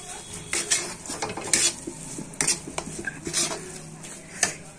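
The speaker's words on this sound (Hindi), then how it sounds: "इसमें क्रीम डालेंगे और इसे भी अच्छी तरह से मिक्स कर देते हैं।" Cream being stirred into shahi paneer gravy in a pan: repeated scraping and clinking of a spoon against the metal pan in an uneven rhythm, close and fairly loud, with no talk.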